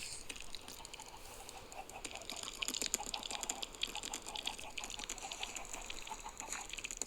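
About 200 Minecraft chickens cluck and chatter in a dense, continuous chorus with scattered clicking sounds, fairly steady throughout with no voices.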